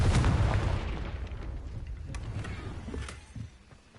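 A Confringo fire spell explodes in the Hogwarts Legacy video game, a loud booming burst at the start that rumbles and fades over a few seconds, with smaller crackling impacts trailing after.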